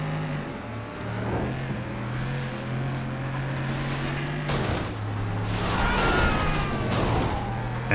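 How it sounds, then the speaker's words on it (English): Cars collide in a FlatOut 2 street race on PS2, with heavy crunching impacts over a steady droning engine roar, loud and close, with no voices. "Jason also took some heavy damage in that crash as well"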